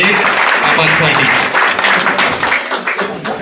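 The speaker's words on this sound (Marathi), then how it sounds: "आबासाहेबांचा या ठिकाणी याच्यावरती सत्कार करत जोरदार टाळ्यांचा गजर झाला पाहिजे।" Loud, sustained applause from a crowd at a felicitation ceremony for Abasaheb in Malegaon, dense clapping filling the whole stretch with a voice speaking over it.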